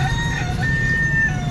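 A live chicken clucks and crows at a busy market in Bais, Negros Oriental, Philippines, its calls steady and near over a constant crowd hum.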